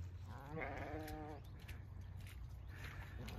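Sheep with newborn lambs out on pasture: one clear wavering bleat near the start, then softer distant calls over a low rumbling outdoor background.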